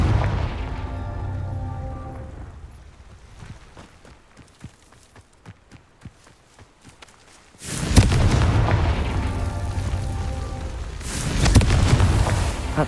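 The Confringo spell in the Hogwarts Legacy video game detonates with a heavy explosive boom and a long rumbling roar, then a second loud burst follows, after a quieter stretch of scattered footsteps and small pops.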